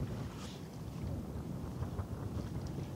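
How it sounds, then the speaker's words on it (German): Wind blowing outdoors at the Finkenwerder waterfront during ship watching, heard as a steady, low, rumbling buffet across the microphone with no talking. "Ein bisschen Wind ist da, aber es geht eigentlich."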